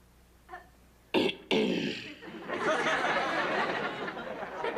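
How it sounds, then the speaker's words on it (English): A man clears his throat before a church congregation in a sitcom scene: a short, sharp rasp, then a second burst, followed by a swelling, continuous murmur of crowd noise. "And then he would clear his throat."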